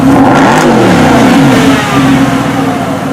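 A Mercedes SLS AMG V8 revs loudly up close, a quick rising and falling blip followed by a sustained deep engine drone.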